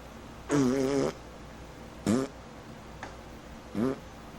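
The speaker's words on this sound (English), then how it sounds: "we hear a collection of wet farts" A run of wet farts from a public access TV show: one long sputtering blast, then several shorter ones spaced out, fairly loud and close with no talk.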